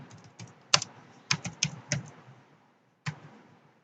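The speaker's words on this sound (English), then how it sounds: "So I'm just going to type hello world," Close, crisp keystrokes on a computer keyboard: about ten sharp taps in an uneven run, a pause of roughly a second, then one final tap, with no talking.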